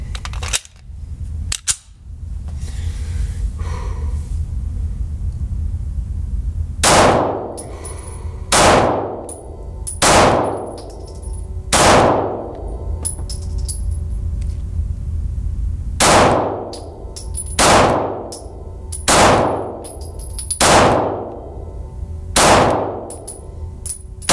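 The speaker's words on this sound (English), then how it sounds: "That's 20 rounds through the FXS-9, and I'd say that's pretty good." An ATI FXS-9 full-size pistol fires at a steel target outdoors: a long series of sharp shots, each followed by a ringing metallic clang, in two clusters with a short pause between them.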